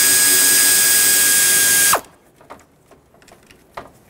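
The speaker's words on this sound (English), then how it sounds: "Now I want to remove the 8mm bolt holding the AC condenser onto the radiator so I can separate the two." A power tool whirs loudly as it spins out an 8mm bolt holding the AC condenser to the radiator, then cuts off abruptly, leaving a few faint clicks and taps of handling the part.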